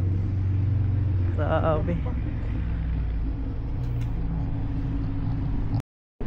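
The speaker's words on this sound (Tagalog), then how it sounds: "Daming sasakyan ngayon dito bro." Heavy road traffic rumbles past in a busy street scene, a steady low drone of many cars and larger vehicles going by close at hand, with a brief spoken exclamation over it and a sudden cut near the end.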